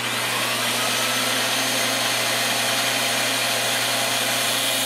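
A knockoff rotary tool with a cutoff wheel, mounted as a tool post grinder on a lathe, cuts slowly with a loud, continuous, close high-pitched motor whine and grinding hiss, steady throughout.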